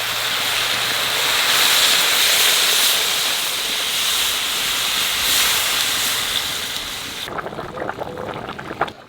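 A pot of water heats on the stove, giving a loud, steady steamy hiss that runs for several seconds and then drops away near the end, leaving quieter bubbling.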